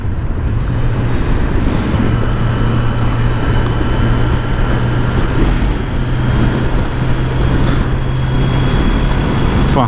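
Kawasaki Z900 motorcycle riding at a relaxed pace, a steady low engine hum beneath heavy, constant wind rush throughout.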